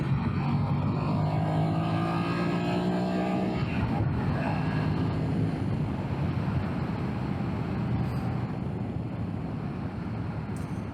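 BMW F900XR motorcycle in fourth gear accelerating hard to overtake, its engine note climbing in pitch under heavy wind rush before settling into a steady broad roar.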